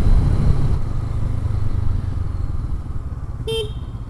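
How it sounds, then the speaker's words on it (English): A Honda CB500X motorcycle horn (2019 model) gives one short, loud honk near the end, rising over steady engine and road rumble while riding. "a very loud horn, which I did not intend to test"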